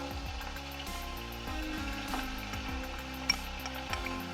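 Onion paste sizzles in a little oil in a pan for a fish curry with yogurt, a steady close frying hiss with no talk.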